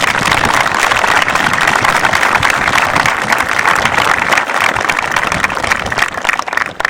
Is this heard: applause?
yes